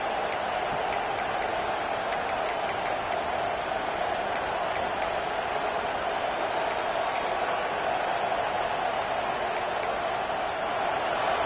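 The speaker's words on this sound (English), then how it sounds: "The roar of the crowd trying to fuel this defense to keep them pinned in their own end." Steady, distant stadium crowd roar in the College Football 26 video game, a dense unbroken wash of cheering noise with no speech over it.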